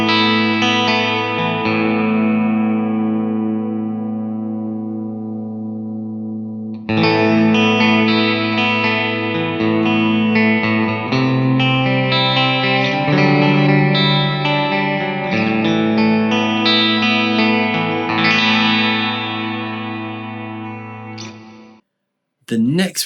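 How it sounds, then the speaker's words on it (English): Electric guitar through a Line 6 DL4 MkII pedal on its Ganymede modulated reverb: sustained chords ring out with a shimmering, wavering wash, then a new strummed passage swells and fades to silence near the end. "The next one we have is going to be the Ganymede. This is a favorite of mine from the Helix."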